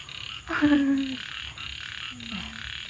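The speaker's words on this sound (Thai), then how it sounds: "ยินแต่เสียงกบเขียดห้องสนั่นเลยวันนี้" Frogs croaking loudly at night beside a stream during rain, in repeated close calls arriving in bursts with short gaps between them, while a faint voice is barely audible.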